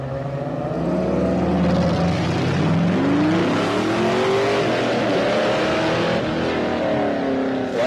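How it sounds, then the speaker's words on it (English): A Holden Monaro GTS race car engine roars loudly and continuously at the SS20 Wairoa rally, its pitch climbing and falling through gear changes as it accelerates past. "In case you were wondering, a Holden Monaro GTS with John Crabs at the wheel, and this will sound glorious"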